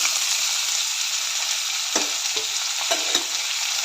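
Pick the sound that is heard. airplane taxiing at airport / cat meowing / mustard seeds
mustard seeds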